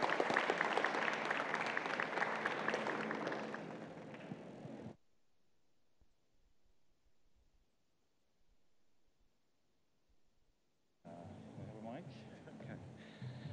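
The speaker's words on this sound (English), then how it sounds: "A better hand of applause." Audience applause at a youth forum, full clapping and crowd noise for about five seconds, then a drop to near silence, and a second burst of clapping returning near the end.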